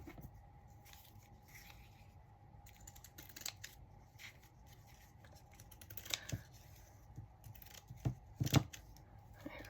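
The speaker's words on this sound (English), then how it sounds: "Let's cut it." Scissors snip through lace fabric scraps, with a few soft scattered cuts and a couple of louder crisp snips toward the end, close by over low room noise; no talk.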